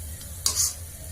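Brief sizzle and stir of carrots frying in ghee in a pan for Assamese gajar halwa, a short burst of crackling over a low steady hum.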